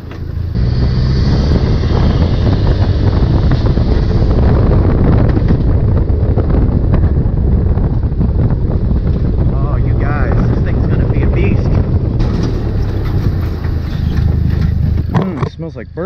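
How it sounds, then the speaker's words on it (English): A turbocharged Mitsubishi 3A92 dune buggy engine with a Borg K03 turbo spools under load, roaring loud and close with heavy wind rush, while a voice talks over it. "This thing is spooling quick."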